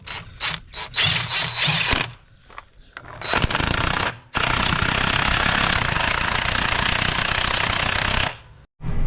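A pneumatic impact wrench fastens bolts on farm equipment, opening with short stuttering rattling bursts, then one long sustained hammering run, loud and close, before cutting off.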